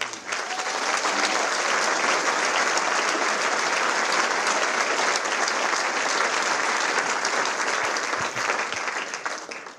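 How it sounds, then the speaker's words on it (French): Audience applause at a comedy gala celebrating humor awards, a loud, dense and continuous ovation from a large theatre crowd, holding steady before tapering at the very end. "Je vous demande d'applaudir ce soir, Xavier Lacouture."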